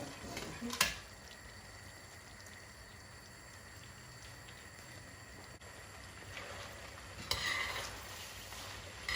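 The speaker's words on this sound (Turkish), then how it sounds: "Ve makarnamızı bu şekilde karıştırıyorum." Quiet scraping and clinking as pasta is stirred in a pot, with a couple of sharper knocks against the side over a soft background hiss.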